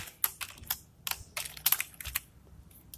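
Fingers typing code on a computer keyboard, a quick irregular run of crisp close key clicks over about three seconds, with no talking.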